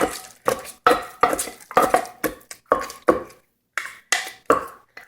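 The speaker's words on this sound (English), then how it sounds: "And then you're going to smash the shrimp into it first." Shrimp pounded into smashed roasted shallot in a mortar for Lao larb goong: close, knocking strikes with a clattery edge, spaced roughly a half second apart, with one brief pause near the end and no talking.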